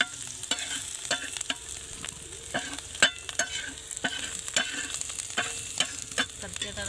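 Onion, garlic, chilli and turmeric sizzle in hot oil for a village-style sukat chutney, with a steady fry hiss broken by repeated sharp scrapes of a spoon stirring the pan, close and alone.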